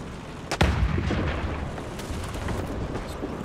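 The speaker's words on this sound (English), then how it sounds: "Artillery. and I'll bombard him." A War Thunder artillery barrage: one loud, sharp boom, followed by a sustained low rolling rumble of shelling that carries on steadily to the end.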